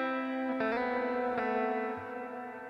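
Electric guitar notes ring through a big hall reverb effect, two struck chords sustaining into a long, smooth wash that slowly decays, with no talking.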